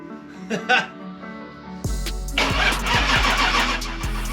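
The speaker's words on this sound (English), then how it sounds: "But try as we might, we couldn't get it to turn over." A Jaguar Mark II from a barn find cranks without catching: quiet voices at first, then the starter motor grinds in loud, rhythmic pulses close by, turning over repeatedly but never firing.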